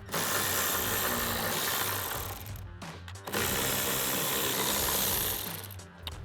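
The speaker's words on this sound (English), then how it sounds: "So now I'm taking a 10mm socket and extension to remove those two bolts." Ratchet wrench with a 10mm socket and extension removing the third brake light bolts on a 2019-2026 Chevrolet Silverado 1500, giving steady dense clicking that stops briefly midway and then resumes.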